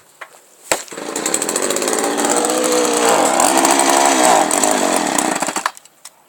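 A chainsaw starts with a sharp pull, then its engine whines loudly and steadily for about five seconds, rising and falling slightly in pitch before cutting off.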